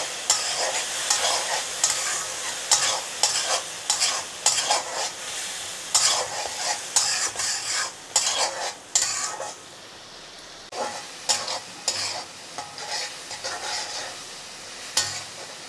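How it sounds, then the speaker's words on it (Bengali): Tomato paste fries and is stirred in a pan. A steady sizzle runs throughout, broken by repeated close scraping strokes of a spoon against the pan, with a brief quieter stretch partway through. "আমি এখন এখানে দিয়ে দেবো টমেটো বাটা। এখন এটা কিছুক্ষণ কষিয়ে নেব।"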